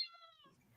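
A single short, faint cat meow with a falling pitch, heard up close indoors, followed by a soft low murmur.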